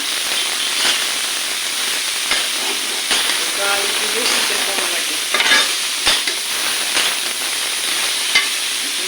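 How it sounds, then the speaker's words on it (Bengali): Bitter gourd and potatoes with turmeric being stirred in a frying pan: a steady close sizzle and hiss, broken by repeated scraping and clacking strokes of the spatula at an uneven pace. "এখন এই যে উস্তে আলু একসাথে মিক্স করছি হলুদ সাথে দেওয়া"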